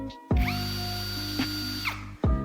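A Browynn 1380 cordless impact drill in turbo mode whirs at high speed for about two seconds, steady and loud, with brief pitch blips midway, then stops and restarts at the end.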